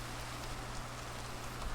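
Soft, even hiss of rain falling in Minecraft, a faint continuous patter with no other sounds.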